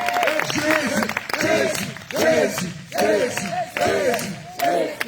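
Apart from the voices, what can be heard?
congregation acclaiming and cheering at a prayer gathering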